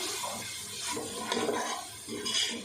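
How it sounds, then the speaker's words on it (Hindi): Splashes of water hit dry spices frying in a pan while cooking dhaba-style daal, giving a steady close sizzle and bubbling with faint stirring scrapes throughout. "मसाला भूनते हुए थोड़ा थोड़ा पानी भी डालते जाएंगे"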